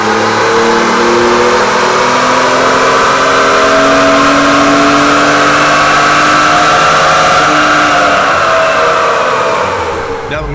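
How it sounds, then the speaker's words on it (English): A 2020 Ford Raptor fitted with Garrett turbos and an upgraded intercooler core roars at full load on a dyno, the engine note climbing steadily for about ten seconds, loud and close, then cutting off. "Now that we finished with the dyno test of the Ford Raptor with the new Garrett Turbos and intercooler core"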